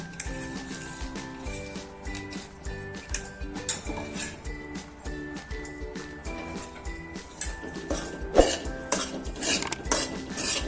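A metal spoon scrapes and clinks against a pan as coconut powder roasts in a spoonful of ghee over a low flame for coconut ladoos, with steady, close clatter throughout.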